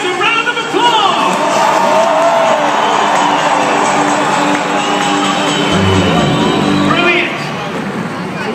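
A stadium crowd at a monster truck show cheers and claps for the riders, loud and continuous, with whoops and children shouting over the din.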